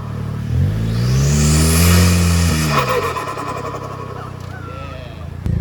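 A car engine fitted with a DIY cold air intake revs up loudly and climbs, then settles back toward idle, heard close from inside the car.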